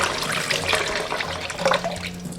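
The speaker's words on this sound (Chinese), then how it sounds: "把这一半需要炸的蒜蓉，最好是用清水清洗一下" Clean water splashes and trickles continuously as minced garlic is rinsed in a bowl in a home kitchen during crayfish prep, close and steady with no talking.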